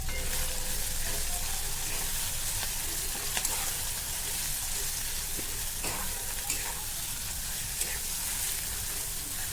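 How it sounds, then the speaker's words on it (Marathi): Green chilli kharda with peanuts and garlic roasts in oil over a low flame, giving a steady, close crackling sizzle with occasional stirring scrapes. "आता तो अजून थोडा भाजून घेतला तेलावर ती खूप सुंदर लागणार आहे"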